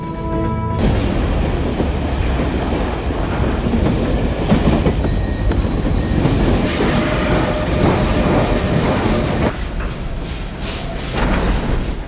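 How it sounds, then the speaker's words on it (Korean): A train rolls steadily along the rails, loud and close, with rhythmic clattering, metallic rumble and a high squeal partway through; no talking. "동부로 향하는 기차에 몸을 실은 존"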